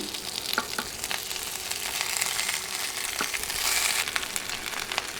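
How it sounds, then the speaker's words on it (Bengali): Chopped tomatoes frying in hot mustard or soybean oil over high heat, a loud steady crackling sizzle with scattered sharp pops and spatters, close by and alone. "তেল গরম হয়ে এলে কেটে রাখা টমেটো দিয়ে দিচ্ছি"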